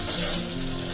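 A spoon stirs turmeric, coriander powder and red chilli powder around a pan for halwai-style potato curry, a close, brief scraping swirl over a low sizzle.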